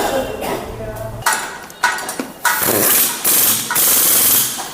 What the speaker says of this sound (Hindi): ये हमने मशीन से इसको अच्छी तरह प्रॉपर तरीके से टाइट कर दिया